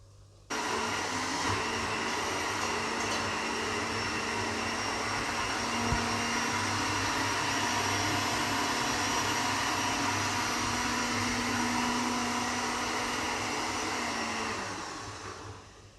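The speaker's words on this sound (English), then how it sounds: "I'm going to blend them up." A blender whirs steadily for about fourteen seconds, blending ingredients into a creamy consistency. It starts abruptly, holds a loud, constant motor drone close by, and then winds down at the end, with no talking.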